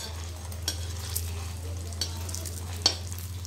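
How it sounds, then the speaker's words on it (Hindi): An eggless egg substitute fries in a few spoonfuls of oil, giving a gentle, continuous sizzle over a low steady hum, with a few light clicks from a utensil and no speech. "ये देखिए जिस तरह अंडे हम तलते हैं उस तरह हम इसे तल रहे हैं"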